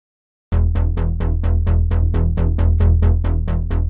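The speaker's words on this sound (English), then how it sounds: "let's first make a low mid cut here." Electronic music with a low-mid cut dialed in on the EQ, a steady loud loop of evenly spaced, punchy hits repeating about every quarter second after a brief silence, with a thick sustained bass underneath.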